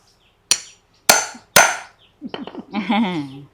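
Three sharp, ringing hammer strikes punch holes in a woven water hyacinth shoe, spaced about half a second apart, followed by a brief voice-like sound.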